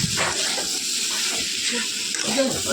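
Soybean chunks fry and are stir-fried in mustard oil, giving a steady close sizzling hiss with scraping stirs throughout, and a voice speaks faintly underneath.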